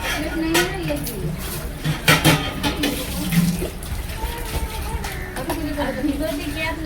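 Tap water running into a kitchen sink while something is rinsed and washed, a steady close splashing under a woman's ongoing Hindi speech, with occasional clatter of items.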